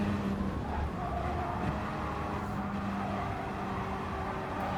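Gr.4 race cars battle side by side at Willow Springs in Gran Turismo, engines droning steadily with faint higher whines of passing cars across several seconds, continuous and mid-distance, with no voices over them.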